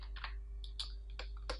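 Code is typed on a computer keyboard in a quiet room: a few light, separate keystrokes clack at an irregular pace over a soft background hum.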